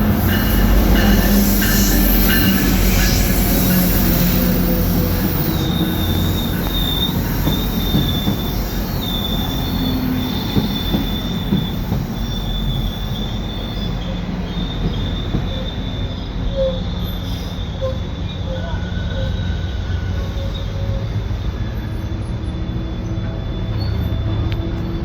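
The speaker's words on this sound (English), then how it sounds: "The train is coming." A GO commuter train pulls into a station at night, its wheels squealing in long high-pitched tones over a steady rumble of rolling cars, loud and close throughout.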